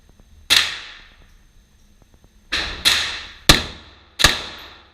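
Pistol shots at an indoor shooting range at 25 feet, fired as a single sharp crack followed after a pause by four more in quick pairs, each loud and close with a short echoing decay.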